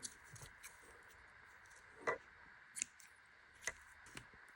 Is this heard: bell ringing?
no